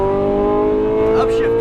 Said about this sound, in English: Upshift.